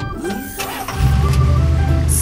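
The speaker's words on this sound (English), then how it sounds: "Ambulance." A toy ambulance's engine gives a brief starter crank before catching into a steady, loud, deep idle that runs to the end, with a faint high hiss at the close and no speech.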